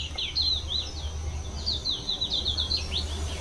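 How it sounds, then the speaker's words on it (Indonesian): Birds chirp and sing in a forest on Banda's volcano in Indonesia, with quick high twittering calls repeating through the clip over a low steady hum, fairly near and alone without any talk. "Ada suara burung."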